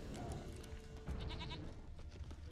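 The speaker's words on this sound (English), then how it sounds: "Yeah, there's goat sound." A goat bleats a few times in The Witcher 3 over steady background ambience, the calls short and wavering, moderately close.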